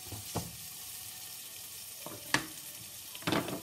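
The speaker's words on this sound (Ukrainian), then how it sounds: "чекаємо, щоб трошки наші гриби з перцем протушилися" Mushrooms and peppers stewing in a pan give a steady low sizzle, with a few sharper clinks or stirring knocks breaking through at moments. No one speaks.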